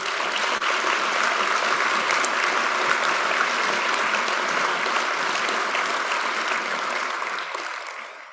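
Dense, loud applause fills the room at a leaders and scholars breakfast, a steady wash of many hands clapping together that holds evenly and then tapers off near the end.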